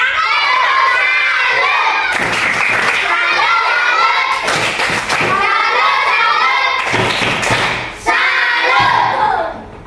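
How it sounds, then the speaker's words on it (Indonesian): Schoolchildren in a classroom cheering and shouting loudly and close, with bursts of clapping and thumps breaking through in several waves over about ten seconds. "tepuk tangan dulu untuk semua"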